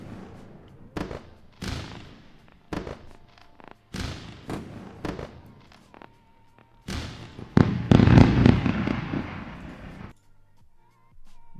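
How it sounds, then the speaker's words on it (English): A fireworks sound effect plays as a celebration, a string of sharp bangs and crackles spread over several seconds, building into a dense burst of crackling before cutting off, with no talk over it. "we're going to go with a round of fireworks for that trade"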